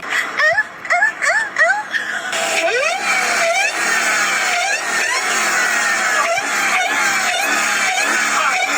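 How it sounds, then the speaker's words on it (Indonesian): A Dodge Hellcat exhaust roars up close with sharp, repeated rev blips that rise and fall, then a longer surge and sustained loud engine note with gear-like pitch sweeps. "Ini adalah Dodge Hellcat. Suara knalpotnya tuh kayak gini, coy."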